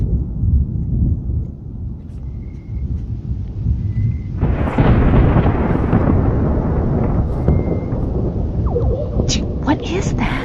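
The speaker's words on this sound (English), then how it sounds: "I have never heard thunder like that." Deep, continuous rumbling thunder rolls outdoors in Florida, heavy and close, swelling louder midway and holding a long steady growl with faint crackling on top.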